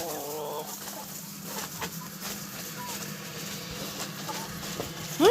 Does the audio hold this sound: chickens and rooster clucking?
yes